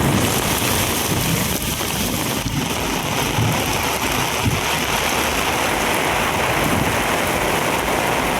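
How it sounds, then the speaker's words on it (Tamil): Heavy rain pours steadily across the Kanchipuram area in a thunderstorm, a loud, dense, continuous hiss of rainfall with no distinct thunderclap standing out. "இடி மின்னலுடன் கனமழை வெளுத்து வாங்கியது"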